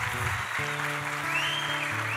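Church congregation applauding together at a youth retreat service, a steady wash of clapping with a low hum of tones running underneath.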